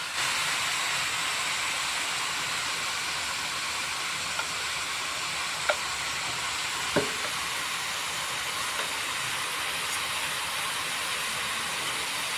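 Spices being stirred into ash gourd in a hot pan, a steady hiss and sizzle running throughout with a few faint scrapes of the spoon against the pan.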